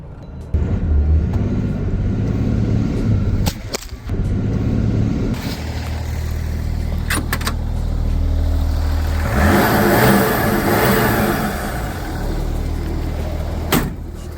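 Diesel BMW M57 engine swapped into a Lincoln Continental, heard from inside while cruising: a steady low engine drone with rising turbo whoosh and spool, loud and continuous, with no talk.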